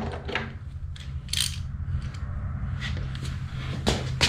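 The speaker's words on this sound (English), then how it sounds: "So now we're gonna remove these bolts here." A wrench works loose a tight bolt on a Givi luggage rack fitted to a Royal Enfield Meteor 350 motorcycle, giving scattered mechanical clicks and ratcheting bursts over a steady low hum, close by, with no speech.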